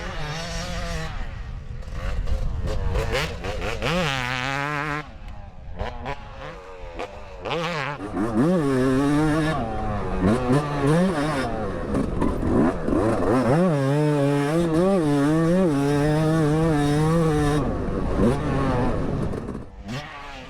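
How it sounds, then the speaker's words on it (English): A 250cc two-stroke motorcycle on a hot lap around a track, loud and close, its high buzzing engine rising and falling in pitch through repeated revving, shifting and braking. "I'm gonna be quiet so we can listen and enjoy the two-stroke goodness."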